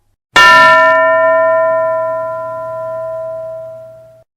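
A classroom bell rings once with a bright metallic strike, then its clear ringing tone slowly fades over several seconds, loud and alone.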